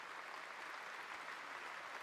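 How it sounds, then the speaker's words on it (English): A live audience at the Gamescom Opening Night Live showcase gives soft, muted, polite applause. It is a steady patter of many hands, fairly distant and faint, and no one speaks. "you can get a very, very muted sort of polite clap after some of the stuff"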